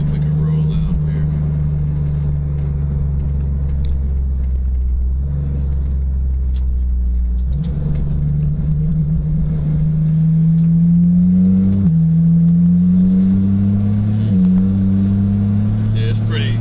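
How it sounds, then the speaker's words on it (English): Engine of a 2022 Porsche 911 GT3 with an IP Engineering exhaust and the valves open, a deep booming drone at low revs that rises in pitch through several steady pulls, with talk over it. "Yeah, it's pretty boomy with the valves open."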